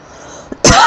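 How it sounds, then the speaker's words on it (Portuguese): A sharp cough bursts out and then runs on as a loud, harsh, sustained fit close by, preceded by a brief small hack, in a quiet room. "essa tosse não para"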